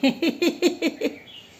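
A quick run of six sharp bird chirps from birds nesting outside a house, evenly spaced and fairly close, fading slightly toward the end.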